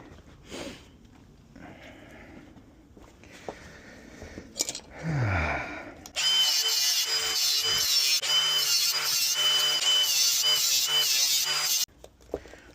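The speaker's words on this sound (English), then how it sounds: "we'll just get a grinder to this and we'll hack it down" An angle grinder cuts a steering knuckle during a power steering swap on a 1971 Chevy C10, spinning up after a few quiet handling noises and then grinding loud, harsh and steady for about six seconds before it stops.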